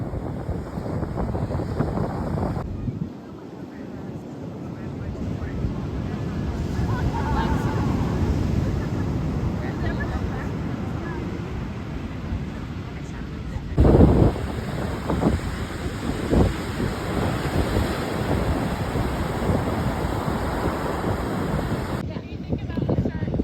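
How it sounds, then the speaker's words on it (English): Ocean waves wash onto Castle Cliff Beach in New Zealand under heavy wind buffeting the microphone, a continuous loud roar with a sharper surge midway. "This is actually my first time being to the ocean, and this was Castle Cliff Beach."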